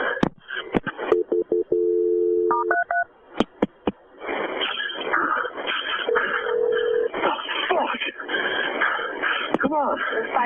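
Telephone dialing to reach the fire department: a quick run of touch-tone beeps and clicks, then a ringing tone, followed by voices talking over a phone line with a brief steady tone in the middle.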